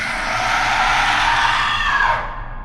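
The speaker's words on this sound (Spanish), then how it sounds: "la monja soltó un alarido seco," A nun's dry, piercing scream rings out as a horror sound effect, loud and sustained for about two seconds before cutting off abruptly, with no other sounds around it.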